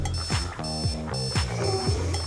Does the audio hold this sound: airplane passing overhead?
no